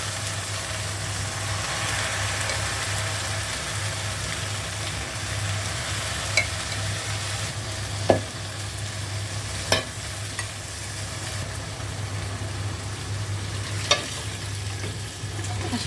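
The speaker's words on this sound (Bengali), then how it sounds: "বাগার দিয়ে দিচ্ছি।" Hot baghar tempering sizzles steadily over a low hum while beef nihari is stirred, with a few sharp clicks of a utensil against the pot scattered through.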